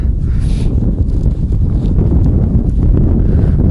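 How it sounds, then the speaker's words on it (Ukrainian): Strong wind buffets the microphone in a steady, loud low roar with gusty rumbling throughout, and no voices, on winter ice in Kyiv. "Вітер, друзі. Сильний вітер."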